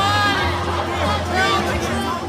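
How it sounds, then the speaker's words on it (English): Crowd at a Trump rally booing the media, a steady, loud wall of massed voices and murmuring chatter that holds without a break. "people booing the media"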